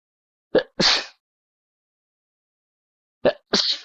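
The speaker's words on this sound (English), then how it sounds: "I keep sneezing." Two sharp sneezes, each a quick intake followed by an explosive burst, separated by a few seconds of silence.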